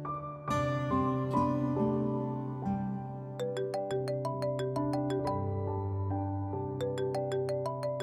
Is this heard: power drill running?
no